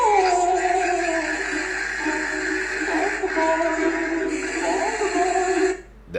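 A dog whines and howls in long, wavering cries that carry steadily and fairly loudly through the clip, fading out near the end.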